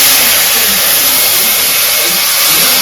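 Tomatoes hit hot oil already seasoned with cumin and bay leaf for a Bengali egg curry, producing a loud, unbroken, close-up sizzling hiss that holds level for the whole stretch.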